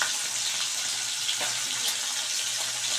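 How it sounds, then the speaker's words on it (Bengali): Paneer pieces shallow-fry in oil, being browned for a no-onion, no-garlic masala paneer. A dense, even hiss of sizzling fills the whole stretch, close and fairly loud, with no voices. "তো প্রথমে পনিরগুলোকে আমি একটু লাল লাল করে হালকা লাল করে ফ্রাই করছি।"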